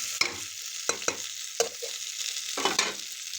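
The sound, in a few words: stirring stuffed eggplant with spice masala in a pan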